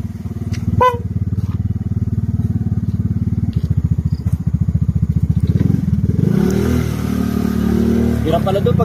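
A scooter rides a rough, muddy road near a river valley farmsite, its engine chugging in a steady pulsing rhythm with occasional thumps and clatter, close and loud, shifting to a rougher rumble near the end.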